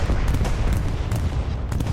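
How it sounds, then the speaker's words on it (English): Sustained rumbling gunfire from an aircraft strafing run in the World War II shooter Hell Let Loose, a continuous heavy barrage with sharp bursts throughout, loud and steady with no pause. "Another strafing run."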